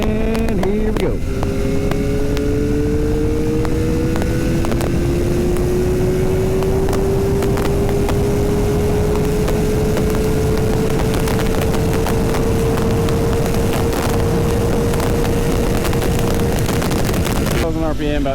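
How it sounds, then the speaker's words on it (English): Kawasaki Ninja ZX-4RR motorcycle accelerating hard in fourth gear from about 60 mph, its engine note climbing steadily in a long continuous rising whine under heavy wind rush, loud and close. "we're gonna do a quick little fourth gear acceleration"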